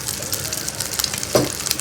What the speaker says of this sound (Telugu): వేయించుకోవాలి.